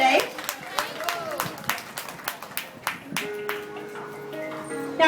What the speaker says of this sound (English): let's give our veterinarian a round of applause